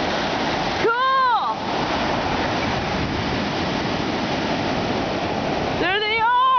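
Ocean surf washes steadily and loudly at Redondo Beach, California, as a continuous broadband roar, with brief voices talking over it near the start and end.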